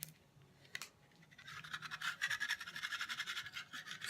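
A scraper rubs over a vinyl stencil to press its edges down, a soft, close scratching that begins faintly and then continues in quick, gentle strokes.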